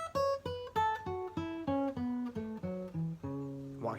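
Guitar runs through pentatonic scale position 4, twelve evenly spaced single picked notes stepping along the scale at a steady moderate pace, clean and close with no talking.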